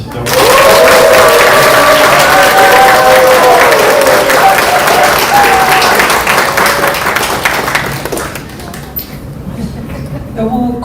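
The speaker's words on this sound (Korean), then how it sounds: "박수 한번 주시죠" Loud, sustained applause fills a hall at a political party members' education event, holding steady for several seconds before thinning out; someone speaks faintly near the end.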